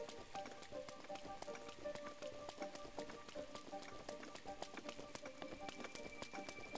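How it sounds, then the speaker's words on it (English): Rain falls in the video game Zelda: Breath of the Wild as a steady, quiet patter, broken by many sharp, regular taps like hurried footsteps or hooves. "I don't think it's gonna stop raining."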